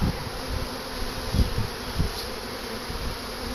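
A swarm of bees buzzes close around the head of someone standing on a ladder at a swarm trap, a dense steady drone with individual insects swelling louder as they pass near.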